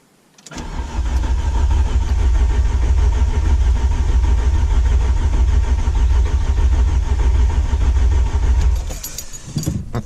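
Golf 2 GTI 16V engine cranking over on the starter with its coil and injectors unplugged, a loud, close, continuous rhythmic churning lasting about eight seconds without firing, then stopping.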